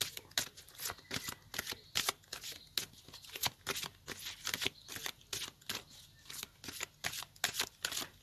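Tarot cards shuffled by hand in a steady run of crisp riffling bursts, close and fairly quiet, with no voices.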